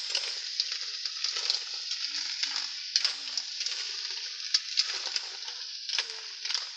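Mussels cooking in a pan being stirred, a steady bright sizzle with repeated scraping and clinking stir strokes throughout, close and fairly quiet, no talking.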